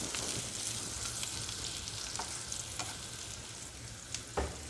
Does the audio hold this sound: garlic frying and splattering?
yes